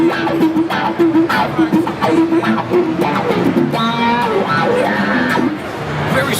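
Electric guitar through a Dunlop overdrive effect pedal on a busy trade show floor, gritty picked notes and short phrases played over crowd noise and background chatter.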